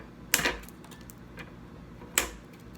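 Cutters clip off the ends of zip ties on a mesh flower wreath: two crisp, quiet snips about two seconds apart.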